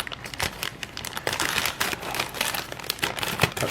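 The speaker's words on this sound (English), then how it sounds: "we're gonna open up the black bag first. And I want my scissors" Black plastic bag being cut open with scissors while unboxing an AMT 1:25 scale Batman Forever Batmobile model kit, giving close, continuous crinkling and rustling with repeated sharp snips and no talking.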